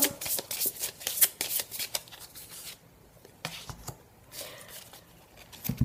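Tarot cards are shuffled and laid out on a table in quick, crisp bursts of papery flicks and slaps, then a quieter pause before a few more close card snaps.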